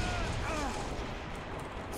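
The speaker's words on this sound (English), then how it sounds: "Rocket launcher" Rocket launcher firing in the Halo video game, a dense booming blast with rumbling explosive noise sustained across the moment, loud and close.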